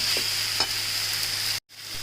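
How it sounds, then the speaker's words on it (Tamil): Black pepper, cumin and spices sauté in a pan for milagu kulambu pepper curry, sizzling steadily up close with occasional stirring scrapes and a brief cut near the end. No one speaks. "இப்போ இது எல்லாம் நல்லா சுருளை வதங்கட்டும்."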